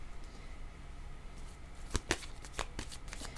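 A deck of cards is shuffled before a card is drawn: a faint, soft riffling patter with a few sharper snaps of cards near the end, with no voices.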